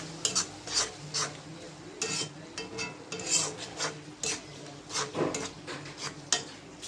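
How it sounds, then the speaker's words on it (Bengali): Spice paste of turmeric, chili powder and salt with dried poa fish being fried and stirred in a pan, giving repeated scraping and rubbing strokes over a faint sizzle, close and moderately loud with no talking. "লবণ দিয়ে দিলাম মশলাটা কষাই নেব"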